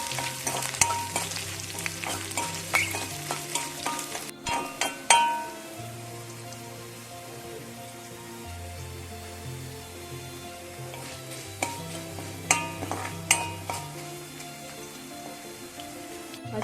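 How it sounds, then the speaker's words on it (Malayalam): Ginger, garlic and green chili fry and are stirred in hot oil for a wild jackfruit pickle, a steady crackling sizzle with scraping stirs, over soft background music. "ഇതിലേക്ക് ഇഞ്ചി, വെളുത്തുള്ളി, പച്ചമുളക് ഇട്ടുണ്ട്. ഇത് ബ്രൗൺ നിറം ആകുന്നത് വരെ ഇളക്കി കൊടുക്കാം."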